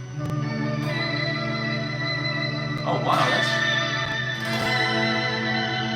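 Bright, plucky electric guitar tone through an effect resembling a harpsichord, with a clipped, keyboard-like attack and echoey tail, played under a brief surprised remark.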